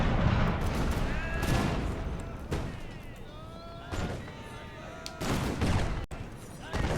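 Infantry musket volleys crack down the line in the Imperial Splendour mod of a Napoleonic-era strategy game, a ragged series of loud gunfire bursts with rolling booms, set beneath a voice talking over the action.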